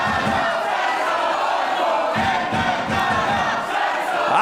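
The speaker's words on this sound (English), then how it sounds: "Listen to this crowd." Wrestling crowd in Berlin roaring and cheering at a tournament, loud, dense and sustained throughout, rising and swelling in waves.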